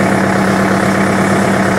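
A tractor engine runs at a steady idle, loud and close, with a constant low droning hum and vibration and no change in pace.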